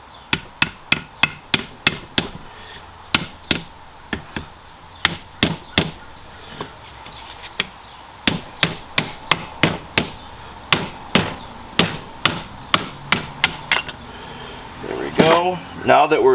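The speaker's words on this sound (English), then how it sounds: "the bolt goes on the inside, so on this end. We're going to start tapping it through" Metallic hammer taps drive a brake bolt through the hub of a 2015–2023 Ford Mustang during a big brake upgrade, dozens of sharp ringing strikes in a steady rhythm with short pauses, ending in a cluster of quicker knocks.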